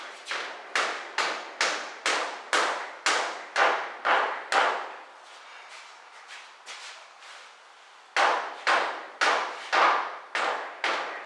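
Hammer blows against a stuck part on a 2000 BMW 323Ci, striking in a steady rhythm of loud, close metallic hits, pausing for a few seconds, then resuming with another run of evenly spaced strikes.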